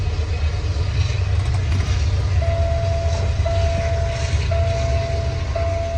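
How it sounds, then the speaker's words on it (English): Diesel locomotive train rolling past nearby, a loud steady low rumble of rail cars with a sustained horn-like tone sounding repeatedly through the latter half. "Of course, the train has to go by as I'm making this video."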